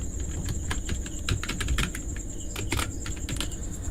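Steady, close computer keyboard typing with rapid irregular keystrokes throughout, clear and fairly loud over a faint high whine, with no speech.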